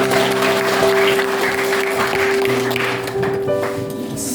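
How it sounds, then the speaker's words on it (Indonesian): Children clap their hands together in a classroom, a dense, steady patter filling the room for several seconds with a faint tonal hum beneath, the clapping easing slightly toward the end. "Kita tepuk tangan dulu kita semua."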